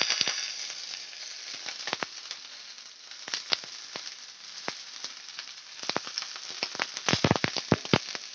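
Drumstick leaves sizzle with wilted onions in a pan for an egg thoran, a steady close crackle broken by sharp pops and spits that come thicker near the end.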